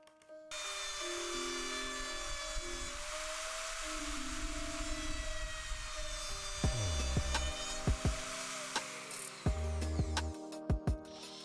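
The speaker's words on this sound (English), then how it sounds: "Finally, a rabbet is cut for the rear panel." Wood router cutting a rabbet into a wooden PC case panel, a high steady whine with grinding texture, followed by several short bursts as the cutter spins up and down, with no talking.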